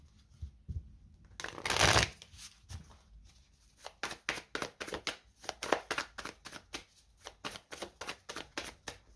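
Tarot cards being shuffled by hand: a loud riffle burst, then a steady run of crisp, close card slaps and flicks repeating in a quick rhythm, with no talking.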